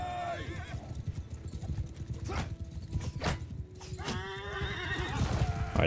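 A horse neighs and whinnies loudly amid clip-clopping hooves in a cavalry battle in a medieval strategy video game, with someone talking faintly underneath.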